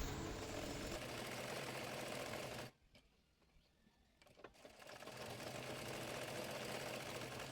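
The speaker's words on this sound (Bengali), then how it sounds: "একইভাবে অপর পাশের বডি পার্টটিও সেলাই করে নেব।" Sewing machine stitching the body panel of a baby top made from fabric scraps, running in a loud continuous buzz, pausing briefly with a few faint clicks, then resuming the steady stitching drone.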